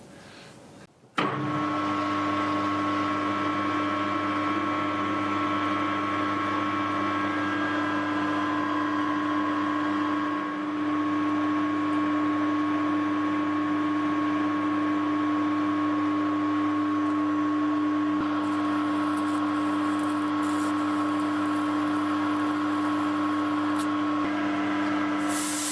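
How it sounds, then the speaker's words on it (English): A metal lathe cuts a 27 mm thread on a collet chuck for hex head bolts, starting after a brief quiet moment into a loud, steady motor hum and whine that holds unbroken throughout. "we start cutting my 27mm thread here"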